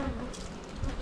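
Honeybees at a hive hum in a steady, close buzz that fills the short stretch, with no voices over it.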